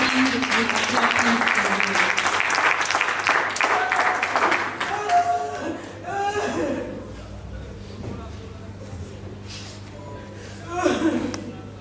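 Congregation applauding and cheering at a funeral service as a speaker arrives to give thanks, a dense, loud burst of clapping that thins out after a few seconds, with murmuring voices and a brief swell of claps near the end.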